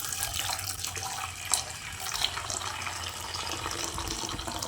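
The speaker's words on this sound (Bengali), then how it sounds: "প্রথমেই গরম জল দিয়ে দিচ্ছি।" Hot water pouring steadily into a large bowl while soya bean kebabs are prepared, a continuous close splashing rush at moderate level with no talk.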